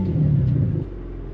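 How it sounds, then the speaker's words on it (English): BMW M2 G87 with a modified exhaust at startup, a deep low rumble that holds briefly, then drops to a steady low idle, close up with no voices. "Let me just start it up so you guys can hear it."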